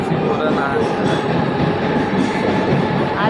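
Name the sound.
train travelling in Mumbai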